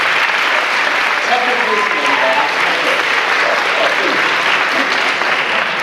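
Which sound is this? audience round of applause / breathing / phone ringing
audience round of applause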